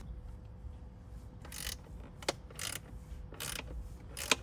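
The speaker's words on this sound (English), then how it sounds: "I'll just grab a socket and take this out a lot quicker." Quiet, faint ratchet clicks in short bursts as a 10mm socket backs a bolt out of a Tesla Model 3 screen mount, several separate clusters with sharp single ticks between, no talking.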